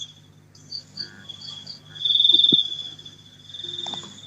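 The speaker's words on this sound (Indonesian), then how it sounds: "Anda masuk hanya untuk mendengarkan suara jangkrik aja" Crickets chirp steadily at a cricket farm at night, a continuous high trilling that swells louder in the middle and again near the end, with faint background noise.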